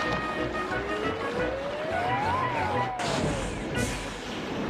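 Brakes applied on a moving steam train, Thomas the Tank Engine, a rising then falling squeal over a rumbling, hissing engine, followed by an abrupt burst of hiss near the end.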